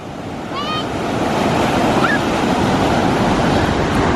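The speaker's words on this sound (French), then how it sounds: "il y a des grosses vagues comme on vous l'a dit" Big ocean waves break on a beach in Morocco, a loud continuous surf roar swelling and rumbling close by, with wind buffeting the microphone and brief faint high cries from people at play.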